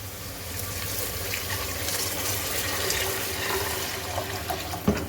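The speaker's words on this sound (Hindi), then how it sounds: "अब मैं इसमें पानी ऐड करूँगी।" Water pours steadily into a pot of fried black chickpeas with green chilies, a continuous broadband gush and splash close by, with a small clink near the end.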